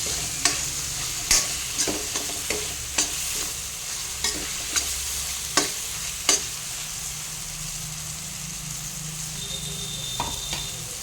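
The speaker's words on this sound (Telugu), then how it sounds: "అల్లం వెల్లిగడ్డ పేస్ట్ కూడా వేసేసుకున్నాం. వీటిని మగ్గనిస్తాను." Ginger garlic paste fries for chole masala while a utensil taps and scrapes the pan at irregular intervals over a constant bright sizzle, with no one talking.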